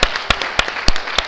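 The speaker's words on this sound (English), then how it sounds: "Please give these people a huge round of applause." A conference audience applauds after a puppet show in a tech talk, a handful of loud, distinct claps ringing out in an irregular burst close to the microphone.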